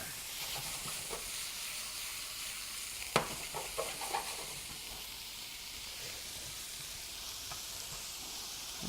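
Food sizzles and caramelizes in a pan on the stove, a soft constant hiss with a few sharper crackles and stirring clatters near the middle, fairly quiet and close.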